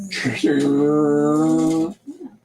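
A voice imitates a sports car, a sustained buzzing engine tone held steady for over a second before cutting off.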